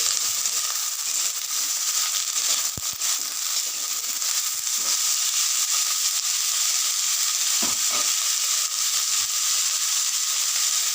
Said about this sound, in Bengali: অল্প একটু নেড়ে চেড়ে একটু নুন হলুদ দিয়ে ঢাকা দিয়ে এটাকে ভাজতে হবে।